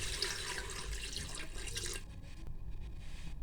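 About half a kilo of beef in a pressure cooker as roughly a glass of water pours in, a close splashing stream for two seconds that then drops to faint trickles and drips.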